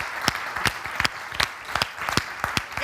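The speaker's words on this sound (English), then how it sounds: "Can you give her a massive round of applause?" An audience at a Cannes Lions talk applauds, with a sparse, loosely rhythmic run of distinct sharp claps over a softer clapping wash.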